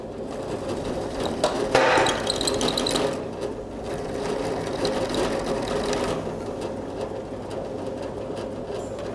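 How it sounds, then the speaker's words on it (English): A drill counterbores the back of a forged blacksmith's nail header with a steady mechanical whir. The pitch shifts and bursts louder for a few seconds as the bit bites into the steel, then the drill keeps running evenly. "I'm actually going to counterbore the back to make it easier for it to release the nail"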